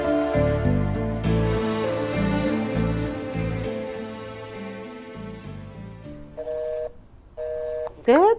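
Talking gives way to a few steady electronic tones, each held about half a second with short gaps, followed by a rising chirp.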